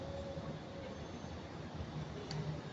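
A train rolls in at the Nice Côte d'Azur depot ahead of coupling, a faint, steady low rumble and broadband rail noise, distant and continuous with no voices.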